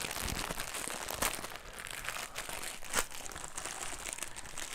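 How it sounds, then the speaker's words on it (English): eBay parcel packaging torn open by hand, a steady close crinkling and ripping of plastic or paper with a few sharper tears, continuous and alone. "No knife, just rip open."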